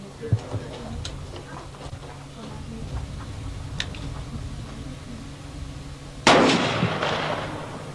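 A fast bullet fired at tin cans outdoors, a single loud sharp gunshot report near the end, preceded by quiet clicks and light handling noise.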